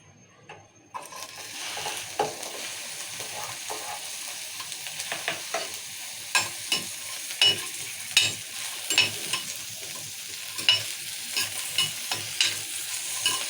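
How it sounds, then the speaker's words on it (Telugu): Onions hit hot oil in a pan, bursting into a strong sizzle that holds steady, punctuated by a regular rhythm of spatula strokes scraping and stirring, close and fairly loud. "కొంచెం ఆయిల్ వేసి ఉల్లిగడ్డ వేసుకుందాం"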